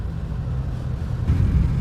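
A large truck pulls in nearby, its low, heavy engine rumble steady at first and then swelling louder and closer after about a second.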